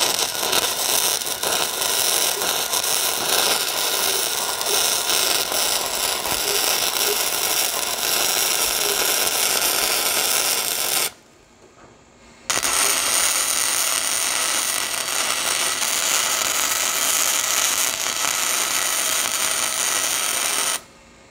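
A Vevor flux-core MIG welder lays a bead on rough trailer metal with a loud, steady crackling buzz. The arc cuts out for about a second partway through, then resumes and runs continuously until it stops at the end.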